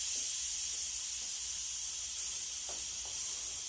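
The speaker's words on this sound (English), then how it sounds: "we're just going to release whatever pressure is left" Steam releases from an Emeril Lagasse pressure cooker air fryer braising lamb shanks: a loud, steady, continuous hiss that holds unchanged throughout with no talking.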